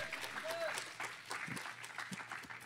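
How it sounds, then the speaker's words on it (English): A church congregation gives a short burst of clapping during a bilingual service, scattered hands under ongoing voices and a brief tonal sound, fairly close and moderate in level. "give him a clap offering"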